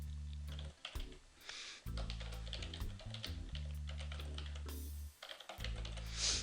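An email address is typed on a computer keyboard in a quiet room, a quick, irregular run of close, crisp key clicks with brief pauses between bursts.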